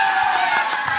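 An audience at a film song launch event claps and cheers in a brief, dense burst of applause and whoops.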